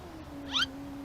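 A stiff, worn car power window motor squeaks once in a short, high-pitched creak over a steady low electrical hum, from a high-mileage vehicle with a tired motor.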